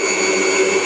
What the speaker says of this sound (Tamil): இப்போ அதை வந்து நம்ம மிக்ஸி ஜாரில் போட்டு கொஞ்சம் கொரன்னு அரைச்சிக்கலாம்